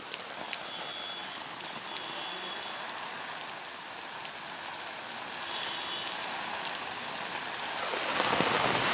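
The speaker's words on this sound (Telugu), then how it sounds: "ఆ చినుకుల శబ్దం కూడా మనం వినగలుగుతున్నామంటే అర్థం చేసుకోవచ్చు ఏ స్థాయిలో ఇక్కడ వర్షం కురుస్తోంది." Heavy rain pours on an umbrella during a downpour in Hyderabad, a dense, steady patter that swells slightly louder toward the end, with no voices.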